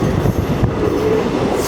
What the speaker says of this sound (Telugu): మళ్ళీ 5 మినిట్స్ స్టాప్ తర్వాత మన బండి కావలి నుండి స్టార్ట్ అయింది